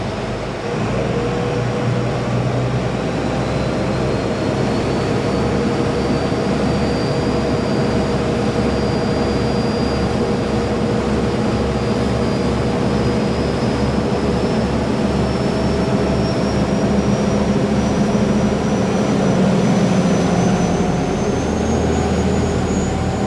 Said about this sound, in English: They're loud, so I mean there's like 3 inches of material between us and those engines right now